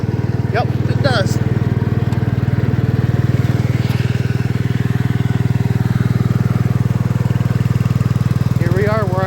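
A 1972 John Deere 110 lawn tractor that sat in a barn for years idles steadily nearby with a loud, even, low chugging hum, while faint birdsong chirps in the background.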